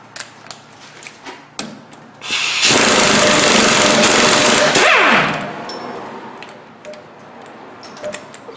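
An impact tool with a hammer bit rattles in one loud, sustained burst of about three seconds while knocking stuck lock nuts off a GMC Jimmy S15 / Chevy S10 truck's steering linkage, with quieter garage clinks before and after.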